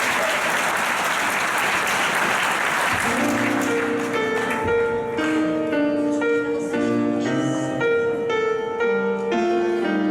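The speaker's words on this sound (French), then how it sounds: "Par la candidate numéro 11, on l'encourage, on l'applaudit" Audience applause at an amateur singing contest, loud clapping for about three seconds that fades as piano-like music begins and carries on under lingering claps.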